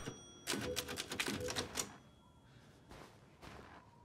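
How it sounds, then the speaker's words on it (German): Typewriter in the video game Resident Evil Village, found at Heisenberg's factory: a quick burst of sharp, close mechanical keystrikes in a rapid clacking run, ending with a carriage-like thunk, followed by quiet ambient room tone. "Hier ist nochmal eine Schreibmaschine."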